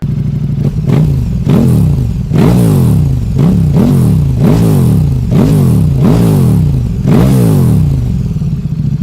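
An Aprilia Tuono motorcycle engine revs hard again and again, about eight rising-and-falling blips in a steady rhythm, loud and close, recorded from behind the bikes.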